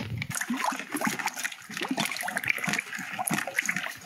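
Sugar and water are stirred together for a bee feeder, producing a continuous close sloshing and splashing of liquid with irregular gurgles throughout, no speech over it.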